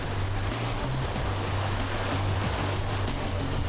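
Sea waves wash onto the coast during a special forces seaborne infiltration exercise, a loud, continuous surf roar with no voices heard.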